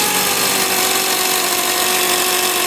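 Steady, loud whir of a power tool, likely an impact wrench, on the strut nut of a 2007 Chevy Malibu Maxx during strut replacement, running continuously with a high tonal whine throughout, no talking.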